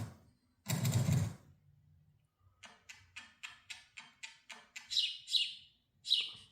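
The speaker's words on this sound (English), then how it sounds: "They're getting stimulated from the bird, the animated bird." Animated bird on a screen played for cats, giving a rapid series of short, evenly spaced chirps and a few brighter, sharper tweets after a brief burst of rustling noise, all quiet and close.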